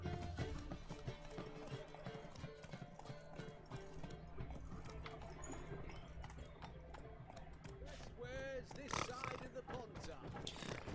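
Roach the horse's hooves clip-clopping at a steady pace in The Witcher 3: Hearts of Stone, with game music and ambient effects beneath and someone talking over the hoofbeats.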